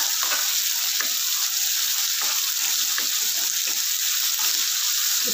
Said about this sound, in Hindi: जब तक प्याज हमारा बिल्कुल गोल्डन ना हो जाए, तब तक हम इसे अच्छे से फ्राई करेंगे।